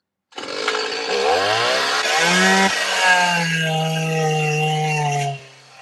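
Chainsaw fitted with a 10-inch carving bar cutting into a large wooden bear carving, loud and close, its engine revving and whining through shifting pitch for several seconds before easing off at the end.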